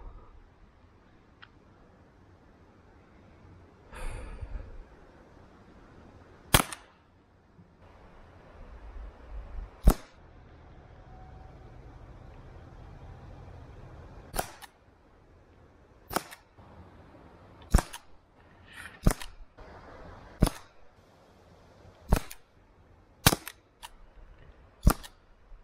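Umarex TP 50 air pistol shots, about a dozen sharp, loud cracks at irregular intervals with faint handling clatter between them.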